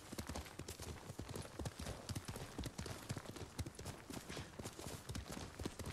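Rapid, steady hoofbeats of a galloping horse in the video game Ghost of Tsushima, close and loud, a continuous rhythmic clatter running throughout.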